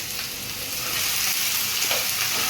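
Crushed ginger, garlic and green chili paste hits hot oil and sizzles loudly and continuously, with a dense, close frying hiss that swells slightly as it goes on and is heard alone without speech.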